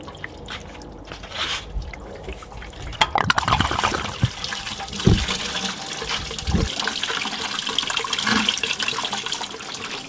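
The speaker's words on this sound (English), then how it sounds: "let's just take this bottom hose off the radiator and drain it" Coolant from the bottom radiator hose of a Ford Mustang RTR pours and trickles out steadily in a close, continuous watery rush with occasional drips and a few clinks of tools, no talking.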